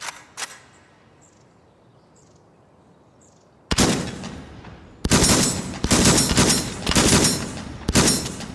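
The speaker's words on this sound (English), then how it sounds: "This is like an automatic shotgun." An automatic shotgun fires in the VR game Hotdogs, Horseshoes, and Hand Grenades: after a quiet stretch with a faint early click, five loud, sharp blasts ring out in quick succession, each with a short ringing tail.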